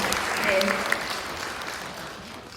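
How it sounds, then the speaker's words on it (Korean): A small audience at a Seoul Foundation for Arts and Culture 30-day project gathering claps for participants who finished all thirty days, a short burst that fades out, with a speaker talking over it. "끝까지 그래도 30일을 꼬박 채워주신 분들은 박수를 한번 받아야 될 것 같아서"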